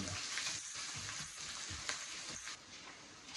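Paneer bhurji with onions frying over medium heat, a steady broadband sizzle with soft crackles and faint stirring scrapes, close and continuous throughout, with no speech.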